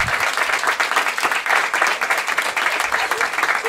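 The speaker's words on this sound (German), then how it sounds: "mal Applaus für die" Steady audience applause fills a German stand-up comedy show, dense clapping from a live crowd that holds at a constant level throughout with no talk on top.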